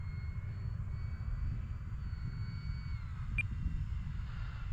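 A radio-controlled model airplane engine flying in the distance, a steady broad drone with a faint high whine, continuous across the clip without speech.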